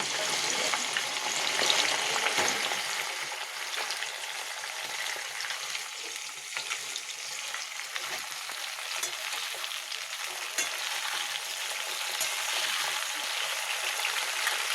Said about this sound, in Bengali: ফার্স্টে একটু তেজপাতাটা দিয়ে দিচ্ছি, তারপরে ফুলকপিগুলো দিয়ে দিচ্ছি।